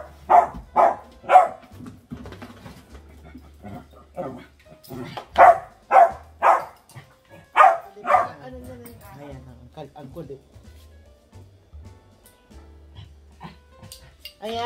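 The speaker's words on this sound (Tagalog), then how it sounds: "Kasi hindi matatahimik yung aso na yun hanggang hindi niya nalalakad." A dog barks in a quick run of sharp, fairly close yaps for about nine seconds, grouped in bursts of three or four, then quiets to softer whines and low noise.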